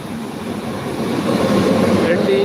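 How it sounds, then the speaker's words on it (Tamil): A goods train approaching a station in Kilambakkam, Chennai, gives a steady low rumble that swells as it nears, with a faint squeal near the end and someone speaking over it. "இங்கே பாருங்கள், அருமையான கூட்ஸ் ட்ரெயின் வருகிறது"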